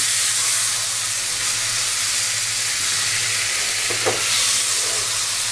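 Boal fish frying in a pan, a loud continuous sizzle and hiss that runs throughout, with a low hum beneath and a brief bubbling burst near the end.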